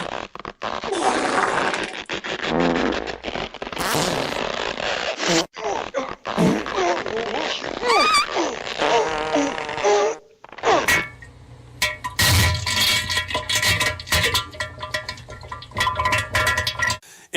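A novelty act plays flatulence sounds as music, with a run of sputtering, squeaky and buzzing bursts in uneven rhythm, loud and close, followed by a stretch of denser tonal noise.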